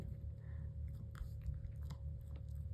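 A snack bitten and chewed up close, with a steady run of crunchy bites and mastication over a continuous low hum, no talking.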